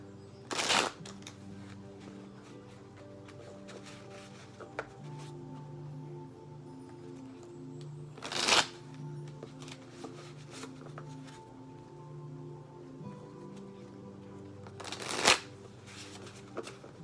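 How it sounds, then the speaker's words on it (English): A tarot card deck is shuffled three times, each a short crisp riffle of cards standing out over a quiet room hum with faint background tones, spaced several seconds apart and close by. "Okay, mixing this deck up a few times."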